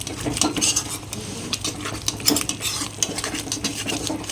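A ladle scrapes and presses softly cooked masala in a pan for Bihari chicken curry, making irregular wet scraping and tapping strokes with a faint sizzle underneath, close by and with no talking.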